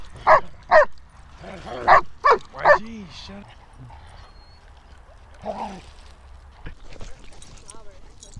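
Huskies bark and snarl at each other in a short, loud flurry of overlapping yelps and growls early on, then a softer yip later, with people talking nearby.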